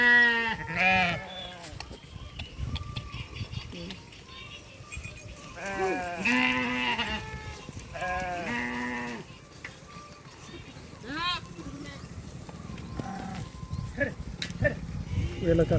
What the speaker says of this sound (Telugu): చిన్న ఈ పొట్టేళ్ళు, గొర్రెలు ఇవన్నీ కూడా మాచర్ల జాతికి చెందినవి.